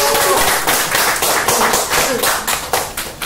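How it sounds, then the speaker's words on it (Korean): A crowd applauds as a local village doctor, director Hwang Chan-ho, is welcomed, giving steady, dense clapping that holds fairly loud throughout, with a little talk underneath. "선생님 모시면서 큰 박수로 시작하도록 하겠습니다."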